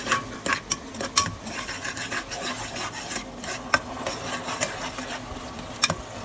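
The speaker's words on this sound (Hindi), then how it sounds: "इसमें हम बाकी जो इंग्रेडिएंट्स हमारे थे स्पाइसेस वो भी डालकर मिक्स कर देंगे" A spoon scrapes and rasps around a pan as spices are stirred into frying tomato and onion, with a steady run of close, irregular scraping strokes over a soft sizzle and no talking.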